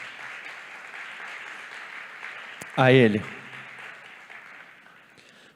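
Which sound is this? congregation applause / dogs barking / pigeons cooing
congregation applause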